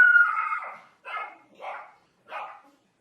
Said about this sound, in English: My dog just started barking.